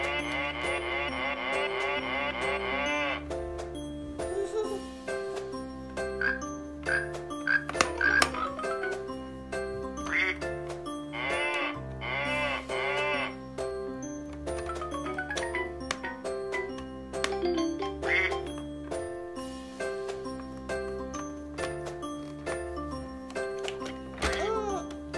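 A children's button toy plays a cheerful electronic melody mixed with synthesized animal calls such as cow moos, with short tones and jingles overlapping steadily throughout and faint voices in the background.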